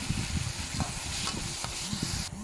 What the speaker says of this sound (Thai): ผัดให้หอมเลยนะคะ